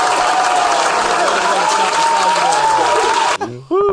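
Applause and cheering from a small group celebrating a podcast's 100th episode, a sustained wash of clapping with whoops and laughter, cut off abruptly near the end as a voice speaks.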